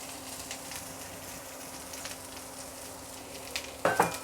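Two large chopped onions drop into hot oil with browned garlic, a steady close sizzle of frying throughout, with a louder crackling burst near the end as they hit the pan.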